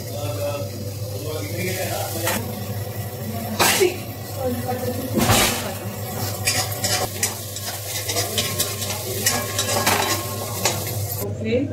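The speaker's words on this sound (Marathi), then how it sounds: "त्यामध्ये आपण आता हे बारीक केलेले मस्त बटाटे टाकायचे." Chopped potatoes go into a hot pan with roasted peanuts and chillies and are stir-fried, giving a steady sizzle with scraping stirs and utensil clinks under household background talk.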